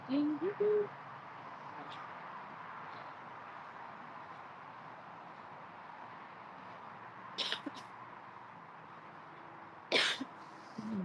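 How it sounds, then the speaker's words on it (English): A few short, sharp coughs, fairly close, break up a faint, quiet room hum, with brief bursts near the start, in the middle and near the end. "My ugly cough."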